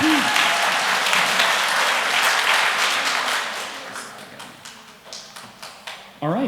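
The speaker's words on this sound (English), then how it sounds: "can you give Miss Price a big round of applause as she comes on down?" Applause from an audience at an elementary school kindergarten celebration, dense clapping at first that fades into scattered individual claps, with a voice briefly heard at the end.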